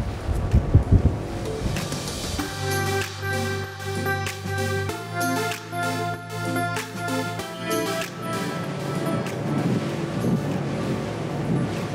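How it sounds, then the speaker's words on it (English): An Oryx 379 yacht runs fast over waves, with a rushing blend of wind buffeting and water spray under a steady, shifting tonal drone, loud and continuous with brief gusty peaks. "We're jumping a bit across the waves"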